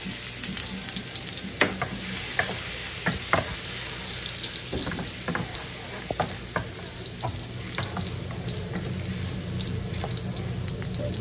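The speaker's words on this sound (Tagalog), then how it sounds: "ang unang gawin ay mag-isa ng bawang" Garlic sautés in a pan with a continuous close sizzle broken by repeated clinks and scrapes of a utensil stirring against the metal.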